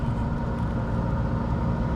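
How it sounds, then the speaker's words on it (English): A McLaren 600LT on stock downpipes, its exhaust giving a continuous low, throaty burble that rumbles steadily and loudly up close with no talk over it. "even stock with normal downpipes, it still makes a little burbly noise"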